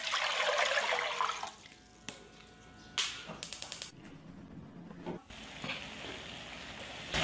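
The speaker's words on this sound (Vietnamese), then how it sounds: "Với 300g đậu xanh thì em cho vào đây 1 lít nước." A liter of water is poured onto 300 g of mung beans in a pot, giving a loud splashing rush at first. Scattered clinks, knocks and shorter trickles follow.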